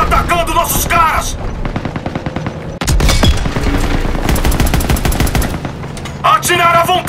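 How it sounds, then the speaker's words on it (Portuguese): Dense, rapid small-arms fire rattles almost nonstop in Call of Duty WWII on PS4, with loud overlapping bursts and volleys and brief voices near the start and end. "Tiros de armas leves!"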